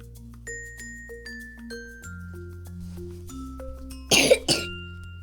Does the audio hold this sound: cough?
yes